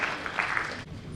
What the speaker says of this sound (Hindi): एक बार जोरदार तालियां हो जाए जेबा मैम को